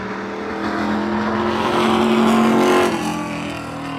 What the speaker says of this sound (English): Trying to talk while a loud race car is going around you